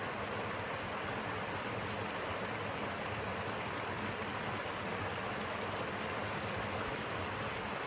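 A woodland stream flows steadily on a rural property, a continuous broad rushing and babbling wash of water that stays loud and even throughout with no voices.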